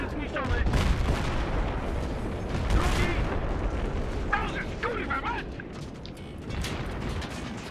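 Rapid bursts of gunfire in Battlefield 3 crackle amid a dense, noisy mix, with voices talking over the action throughout.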